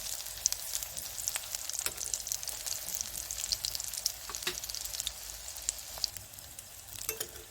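Pumpkin leaf and masoor lentil fritters sizzle in hot oil with a constant crackling fry, punctuated by sharp pops and spits close by, no talking over it.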